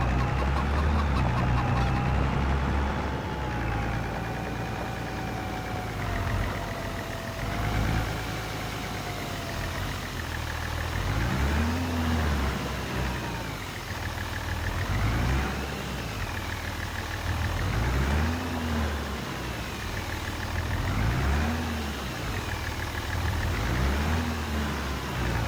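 A tractor engine in Farming Simulator 25 drones steadily as it moves a trailer, with a continuous mid-pitched hum rising and falling in regular swells of revving under the game's background ambience.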